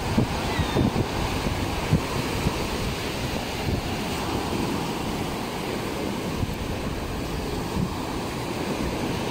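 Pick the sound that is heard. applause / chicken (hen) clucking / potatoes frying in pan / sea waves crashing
sea waves crashing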